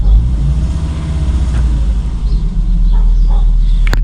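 A 2000–2004 Volvo V70 XC70 engine holds a steady rev around 1500 rpm, a loud, close, continuous low rumble with no talking.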